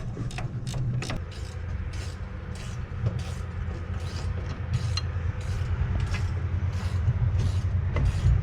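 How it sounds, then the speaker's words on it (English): Ratchet wrench clicking in regular bursts while working on the rear axle of a Z28 Camaro, close and fairly loud over a steady low hum. "It's a ratchet wrench."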